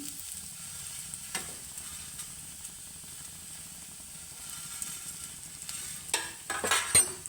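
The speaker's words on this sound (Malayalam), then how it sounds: "ചീനിച്ചട്ടി വെച്ചു, അല്പം എണ്ണ ഒഴിച്ചു, തേങ്ങ വറക്കാൻ പോവുകയാണ്" Grated coconut roasting in a little oil in a Chinese wok (cheenachatti), a faint steady sizzle with occasional scraping stirs that grow louder toward the end, no voices.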